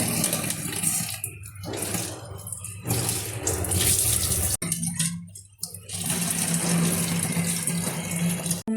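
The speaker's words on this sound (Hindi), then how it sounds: "और पानी भर रही हूँ पीने का। ये दो बोतल खाली हुई थी," Tap water runs loudly into empty drinking water bottles, a steady gushing stream that briefly drops in pitch and breaks off as the bottle is swapped or moved, then resumes.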